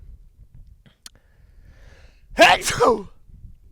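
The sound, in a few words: sneeze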